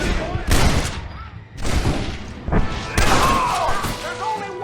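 Gunfire in Red Dead Redemption, with three loud, close bursts of shots roughly a second apart, each ringing out into a booming tail, while shouting voices are heard around them.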